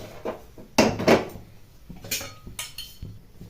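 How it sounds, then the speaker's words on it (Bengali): A wok set down on a gas stove at home, giving a couple of close metallic clanks and knocks followed by lighter clatter of kitchenware, with no talking. "প্রথমে মা গ্যাস জেলে কড়াই বসিয়ে দেবে"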